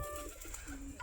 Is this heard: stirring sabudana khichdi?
no